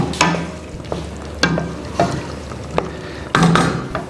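A spoon stirs salt into Turkmen pilaf in a pot, giving about six distinct scraping clinks against the metal at an uneven pace over a soft, steady sizzle.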